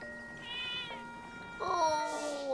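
Cat meowing in the Zelda: Echoes of Wisdom video game, two short high mews, the second louder and drawn out, close and clear without talk.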